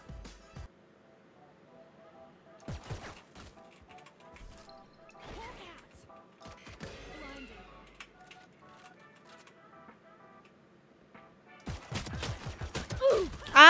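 Gunfire in the Valorant video game comes in sharp bursts and single shots separated by quieter gaps, with a louder flurry near the end and faint game sounds and speech between.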